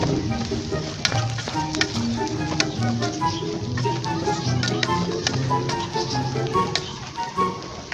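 Crabmeat fried rice cooking in a rice cooker gives off a steady crackling sizzle, with scattered sharp pops and occasional stirring, moderately loud throughout and no voices.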